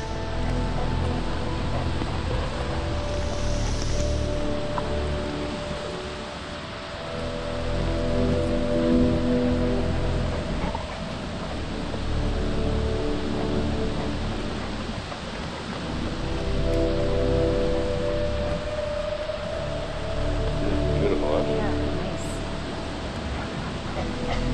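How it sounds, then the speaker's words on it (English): Steady rain falls outdoors with a broad, even hiss, loud and continuous throughout, with slight swells in intensity and no voices over it. "I love the rain."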